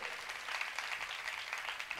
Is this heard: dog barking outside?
no